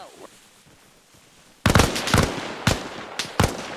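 Gunfire in an Arma Reforger firefight on Arland: after a quiet lull, several sharp, loud shots crack in an irregular burst, some close together, ringing out over faint background.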